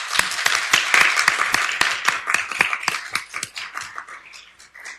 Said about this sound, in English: Can we give our newest employees a round of applause?